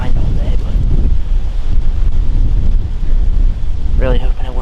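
Strong wind buffets the microphone outdoors during a Kansas bowhunt, a loud continuous rumbling roar throughout, with someone briefly speaking near the end.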